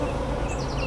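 Honey bees buzz densely around a beekeeper tending a hive, a close, continuous droning with individual bees whining past.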